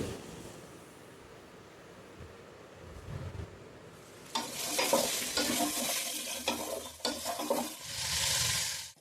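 Capsicum, carrot, beans and potato are tossed into a pan to fry. At first there is only a soft sizzle, then it swells into a loud, close crackle with stirring scrapes and rustles that rise and fall.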